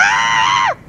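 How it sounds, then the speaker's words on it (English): A person lets out a loud, sustained scream, high and steady, falling off sharply at the end, heard alone outdoors on a city street. "I mean, actually scream like."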